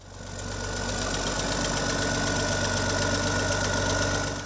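A Farmall tractor engine runs steadily nearby, a loud even chugging idle with a rhythmic knock that holds throughout.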